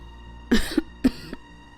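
Two short coughs about half a second apart, close and fairly loud, with a faint rasp trailing the second one.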